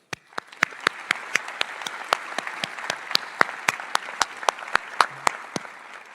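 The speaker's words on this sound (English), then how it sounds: "Let us give them a round of applause." A graduation audience applauds its professors, with crisp, regularly spaced claps ringing out above a continuous bed of crowd clapping that holds steady from start to finish.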